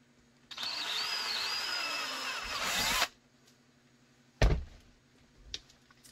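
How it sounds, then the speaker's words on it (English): A power drill whirs steadily for a few seconds while drilling a hole for mounting a Glock 17 holster, then stops; a sharp knock and a softer tap follow in the quiet. "Drill that hole."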